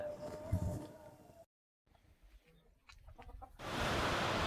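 Country (desi) chickens raised in a small space on a village farm cluck and call in short bursts, fairly close, amid outdoor background noise, with a brief dropout partway through.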